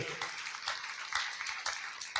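An audience at a Kanpur saint gathering claps for the organising committee, a soft, fairly distant patter of many hands with rhythmic bursts running throughout.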